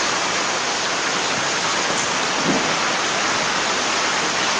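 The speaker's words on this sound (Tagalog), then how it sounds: "murag todo na po na ulan da" Heavy rain pours steadily during an outdoor broadcast, a loud, constant hiss that fills the scene with no break.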